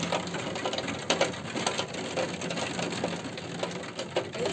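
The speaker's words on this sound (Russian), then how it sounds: "Это у нас идет дождик." Rain patters on a skylight window set in a ceiling, a close, steady stream of fine tapping with occasional sharper drop hits, heard alone without talk.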